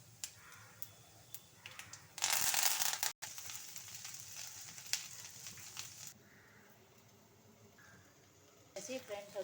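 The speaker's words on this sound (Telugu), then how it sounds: "కూర పోపు కూడా వేసేసుకుంటున్నాను" Curry tempering spices crackle and sizzle in a hot pan in a home kitchen, with a loud burst of frying partway through and softer sizzling after, amid clatter and background noise.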